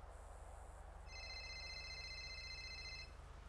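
A phone rings inside GTA V NoPixel roleplay, a quiet electronic ring tone of steady high beeping tones that holds for a couple of seconds, after a brief higher chirp, over a low hum with no talking.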